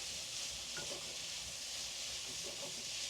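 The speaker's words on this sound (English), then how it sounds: "we're going to just saute these vegetables up." Onion, peppers, carrots and garlic sautéing in a pan, a steady close sizzle and hiss with faint stirring scrapes, without talk.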